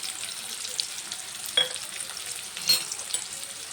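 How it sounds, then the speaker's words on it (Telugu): Onions, curry leaves and green chilies fry in hot oil for a potato curry, giving a soft, steady sizzle with two brief clinks from a utensil. "ఆయిల్ హీట్ అయిపోయింది కదా, కొద్దిగా కరివేపాకు, అలాగే ఒక కప్పు ఆనియన్స్"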